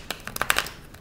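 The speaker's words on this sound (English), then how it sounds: "it's a little messy shuffle" A deck of tarot cards gets a quick, messy shuffle, a brief flurry of soft riffling and crisp card flicks heard close up and alone.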